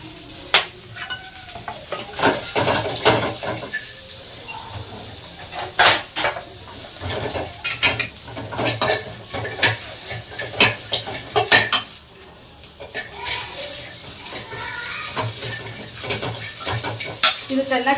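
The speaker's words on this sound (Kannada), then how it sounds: "ಇವಾಗ ಇದಕ್ಕೆ ಈರುಳ್ಳಿ ಈರುಳ್ಳಿ ಬೆಳ್ಳುಳ್ಳಿ ಹಾಕೊಂಡು ಫ್ರೈ ಮಾಡ್ಕೊಳ್ತೀನಿ" Onion and garlic frying in a pan, a low sizzle under frequent close stirring scrapes and metallic clinks of a spoon against the pan, arriving in uneven bursts.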